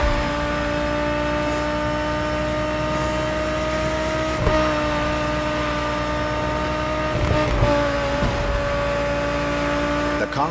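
An Audi R8 LMS GT2 race car in The Crew Motorfest, driven near Ingolstadt in Bavaria, holds a loud, steady high-revving engine whine with brief dips at gear shifts, alone and continuous.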